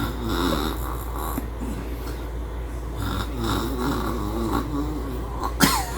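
A man snores steadily in a quiet room with a low hum underneath. The breathing rasps rise and fall over several seconds, close and moderately loud, and a brief sharper snort comes near the end.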